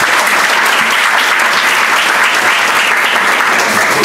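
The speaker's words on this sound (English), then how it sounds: "Round of applause." Steady, dense applause from a conference audience at a WebAssembly tech talk, loud and continuous throughout with no voices over it.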